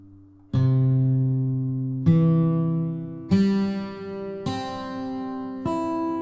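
Five plucked virtual guitar strings ring out one after another from the low string to the high string, each rising higher in pitch, with clean attacks and sustained decays.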